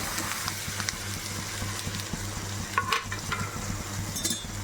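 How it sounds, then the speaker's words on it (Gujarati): Mustard seeds, asafoetida and sesame seeds sizzle steadily in hot oil, a dense continuous frying hiss with faint crackles and a low steady hum underneath, close up and without talk. "હવે આપણી રાઈ થઈ ગઈ છે, હિંગ નાખીશું. હવે એમાં તલ નાખીશું."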